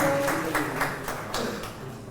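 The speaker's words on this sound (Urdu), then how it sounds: "ایمان کے لیے بہت ساری تالیاں ہونی چاہیے" Scattered applause for a speaker at a social media workshop ceremony comes as a quick run of moderate hand claps in a loose rhythm, fading slightly toward the end.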